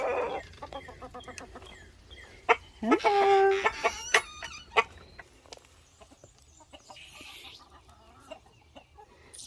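Several chickens cluck and squawk close by in uneven bursts at a homestead chicken house, with a brief spoken greeting among them.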